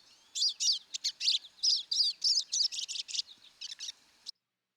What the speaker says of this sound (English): So this is a pine siskin again. Very common bird here in Athabasca in the winter.